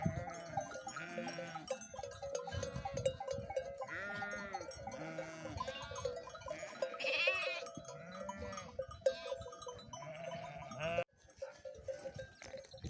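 A flock of sheep and rams out on highland pasture, bleating repeatedly from several animals near and far, overlapping calls, with a cowbell clanking among them.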